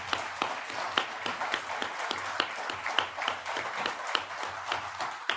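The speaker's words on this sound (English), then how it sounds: "It means a lot to me to get at least one little bit of applause." Audience applause at a State Department Foreign Affairs Day ceremony: steady, moderately close hand clapping from a crowd, sustained evenly throughout with no talking over it.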